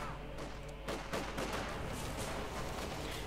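Rapid machine gun bursts crackle in a Company of Heroes 2 battle, dense overlapping gunfire with sharp transients layered under other combat noise, moderately loud and continuous.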